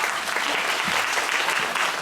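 Theatre audience at a Q&A session for a play applauding, brisk steady clapping from a crowd throughout the short stretch.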